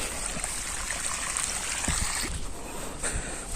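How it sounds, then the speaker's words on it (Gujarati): Water rushes and trickles steadily from a pipe on a farm, a continuous gushing flow with a few soft splashes, fairly quiet and without talk. "આવી ગયું પાણી."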